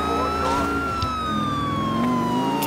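Police car siren wailing continuously in GTA IV, loud and steady with a slowly falling pitch, accompanied by a low vehicle engine rumble and no talking.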